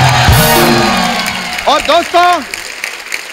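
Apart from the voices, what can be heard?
loud applause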